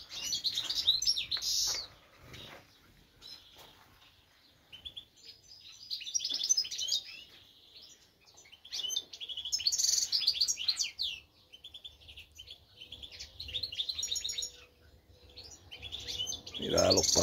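Birds kept in decoy cages in a garden plot chirp in repeated bright bursts, close and fairly loud, with soft wing flutters between the calls.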